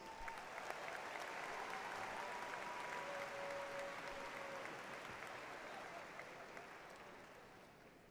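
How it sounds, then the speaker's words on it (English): Sustained applause from a large crowd at a graduation ceremony, steady clapping for doctoral graduates that fills the room and slowly tapers, with a faint voice briefly audible beneath it. "extending another round of applause for our doctoral graduates"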